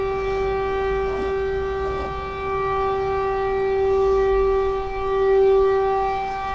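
A loud, powerful siren wails continuously with a steady tone that swells slightly in volume, heard alone without talk.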